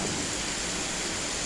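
Rain falls steadily outdoors, a dense even hiss with a soft low rumble, close and continuous throughout.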